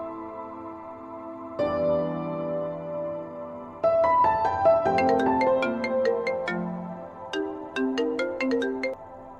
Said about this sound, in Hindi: इतनी रात को फोन कॉल?